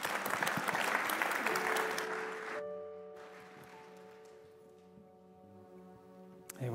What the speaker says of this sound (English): Another round of applause for Petula,